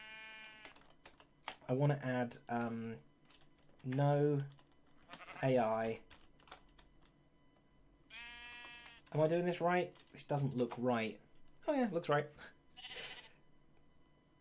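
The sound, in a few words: summoned sheep bleating in Minecraft, a video game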